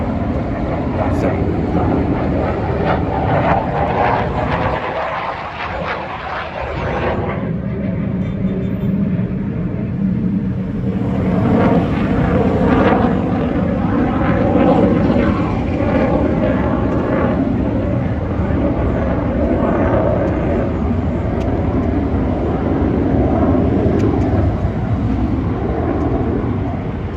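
A jet roars steadily overhead near a Navy air station, its loud broadband rush filling the whole stretch and swelling slightly partway through.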